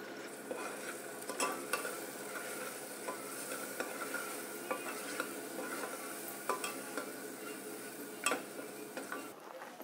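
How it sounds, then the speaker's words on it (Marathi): Ground spice paste sizzles steadily in a hot pan for a chana paneer curry, with a continuous fry hiss broken by regular spatula scrapes and stirring knocks. Nobody speaks. "आपलं वाटण छान फ्राय झालेलं आहे"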